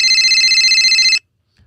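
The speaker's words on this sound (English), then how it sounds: "Phone ring again." A telephone rings loudly and close, one steady electronic trill that stops abruptly, followed by near silence.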